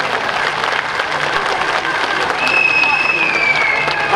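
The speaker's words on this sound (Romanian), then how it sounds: "vă rugăm să-l aplaudăm din tot sufletul" Audience applause at a commune day celebration in Cordun, steady dense clapping throughout with a whistle-like tone partway through, fairly loud and continuous.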